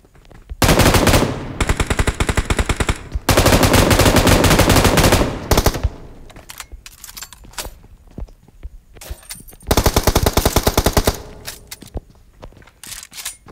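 Automatic gunfire bursts in the mobile battle royale game PUBG Mobile, solo mode: loud rapid machine-gun volleys, two long sustained bursts then scattered shorter shots and a final heavy burst.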